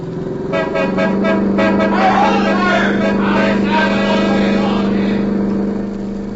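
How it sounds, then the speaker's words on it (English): Car forcing its way through a roadblock in an old-time radio drama, with a steady engine drone, a tonal hum and horn-like honks layered over the motion, sustained loud throughout. "They're stopping cars ahead. I'll try to drive on through."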